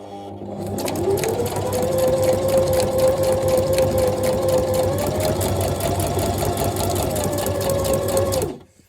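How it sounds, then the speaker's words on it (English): A sewing machine runs a continuous straight stitch, fastening a transparent pocket onto a junk journal page, its close mechanical whir and rapid needle clatter steady for several seconds before stopping abruptly. "I am sewing the pocket to the page"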